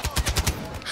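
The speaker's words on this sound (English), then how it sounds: "The guy's trying to shoot me." Rapid automatic blaster fire comes from the video game Star Wars Battlefront. A quick burst of about five evenly spaced shots fills under a second and fades at the end.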